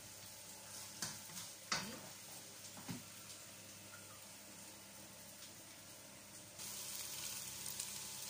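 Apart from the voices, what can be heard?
stirring onions sautéing in a pan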